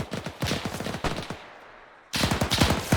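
A WWII Bren light machine gun fires in Arma 3, loud rapid bursts of crackling shots close by, a long burst, a brief pause with fading echo, then another burst.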